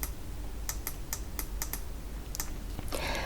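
Computer keyboard keys are pressed in a series of crisp, separate clicks, about a dozen irregular taps close by, ending in a quick cluster, with no voices over the low room hum.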